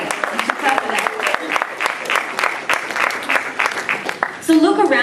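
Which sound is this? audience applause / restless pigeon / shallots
audience applause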